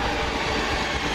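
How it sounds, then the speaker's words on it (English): Northern Rail Class 323 electric multiple unit arriving at East Didsbury station on a Manchester Airport to Crewe service, a steady close rumble of wheels and rail noise filling the short moment with no voices. "in comes the 1355 Northern Rail service from Manchester Piccadilly to Crewe via Manchester Airport"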